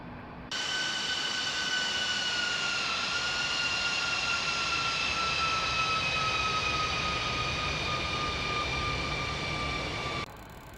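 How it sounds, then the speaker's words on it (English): Four engines of a Boeing 747-200 in the X-Plane 12 flight simulator drone steadily as the airliner turns onto its approach: a loud, continuous jet roar with a sustained whine, cutting in and out abruptly at either end. "Listen to those engines."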